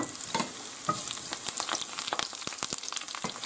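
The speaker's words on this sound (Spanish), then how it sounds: "Y ahora que está caliente, echamos los ajos. Y la guindilla." Garlic and chili sizzle and crackle in hot oil in a pan, a steady close frying hiss broken by sharp pops and spatters throughout, with no talking.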